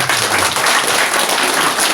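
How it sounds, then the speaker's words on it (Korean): Audience applauding public officials at a city administration briefing, a brief burst of dense, loud clapping filling the whole moment. "우리 공직자분들한테 정말 애쓴다고 박수 한번 좀 쳐주세요."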